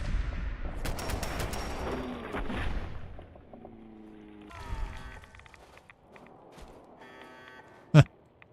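Bursts of gunfire from Fallout 4 rattle in a rapid cluster at the start, followed by quieter mechanical game tones and one sharp loud crack near the end.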